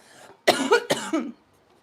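Two harsh, close coughs in quick succession, loud and raspy, followed by quiet.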